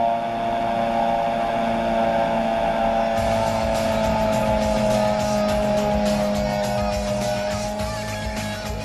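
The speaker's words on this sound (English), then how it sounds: "You can see one of the guys on a snow machine right here." Snowmobile on a snowy valley run, its engine droning continuously and loudly at a steady pitch throughout, with a slight shift partway through and no talk.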